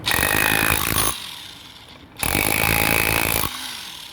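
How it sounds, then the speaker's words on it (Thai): A power tool cuts into concrete in two loud, sustained bursts, each about a second long, separated by a quieter pause; the grinding whine is harsh and steady with no talking over it. "อันนี้คือแยกปูนนะพี่นะ"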